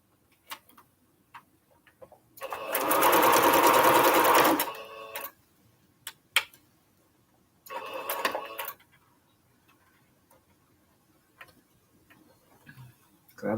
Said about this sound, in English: let's sew rows 3 and 4 together